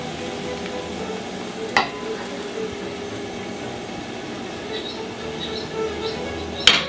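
Crêpe batter cooks in a frying pan over a medium flame with a soft, steady sizzle, interrupted by two sharp clinks of a ladle or utensil against the pan.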